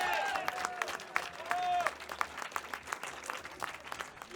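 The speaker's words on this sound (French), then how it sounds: "vous pouvez l'applaudir." A crowd applauds a rally driver at a prize ceremony for the Mont Dore – Chambon sur Lac 2022 production series, a brief burst of clapping mixed with short squeaky tones and chatter.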